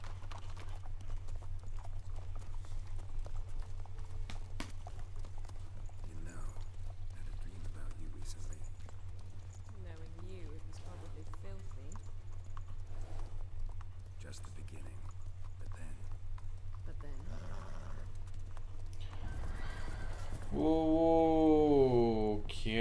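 Hooves of a horse trot at a slow pace in The Witcher 3 video game, a steady soft clip-clop under a low droning background and occasional quiet talk.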